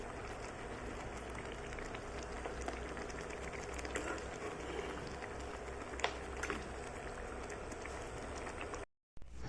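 Steady bubbling and gentle popping of thick kadai paneer curry gravy simmering in a pan, continuous throughout with a brief silent gap near the end.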